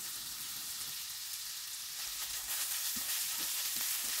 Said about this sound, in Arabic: ابقى احمس به الى ان يذب الدهن مالته.